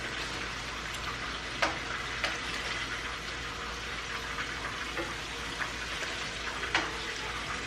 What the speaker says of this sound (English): let me fry out these oxtails